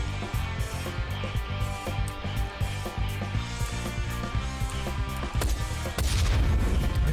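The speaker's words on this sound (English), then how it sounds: "He just dodged that explosion." Dense game soundtrack from Ride to Hell: Retribution, with a pulsing low rhythm and rapid gunfire-like hits, then a loud, broad explosive roar that swells near the end.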